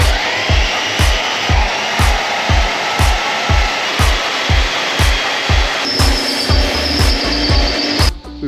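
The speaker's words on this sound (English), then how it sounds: "We've drilled straight through the metal plate with the stone drill." Drilling through a metal plate with a stone drill bit on a robot floor repair: loud, steady grinding drill noise with a regular rhythmic pulse roughly twice per second, and a sharper high whine joining near the end before it cuts off.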